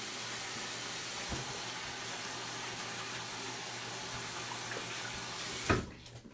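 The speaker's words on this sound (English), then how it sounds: "Wash your hands, wash your hands, wash your hands." Tap water runs steadily into a sink while hands are washed after applying beard balm, a constant close splashing hiss broken by a couple of small knocks and a louder clunk near the end as the flow stops.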